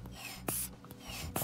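A hand pump inflating a cervical neck traction stretcher, heard as two or three quick airy puffs and squeaks of pumping, close and fairly quiet, with soft rubbing between strokes.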